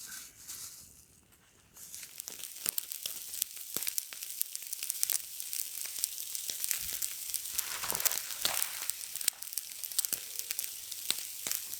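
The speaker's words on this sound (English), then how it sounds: "this is my first attempt at cooking a steak over a fire" Butter-smeared New York strip steak sizzling over an open campfire outdoors, a steady crackling hiss with dense popping spatters that swells after a quieter opening and holds loud throughout.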